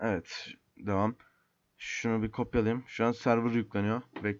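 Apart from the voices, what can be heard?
None of the usual background noises is heard.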